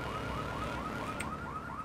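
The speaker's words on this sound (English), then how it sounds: "Fucking alarms." Car alarm in Grand Theft Auto III, a rapid repeating electronic whoop cycling steadily about every quarter second, loud and continuous with game engine noise underneath.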